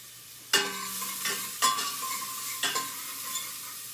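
Food sizzling and browning in a pan on the stove while being stirred, a steady fry with three or four sharp scrapes of the spoon against the pan; no talking.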